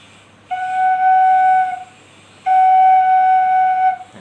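A breathy Thai khlui flute sounds one steady note, La, twice, each held for about a second and a half with a short pause between, alone and close.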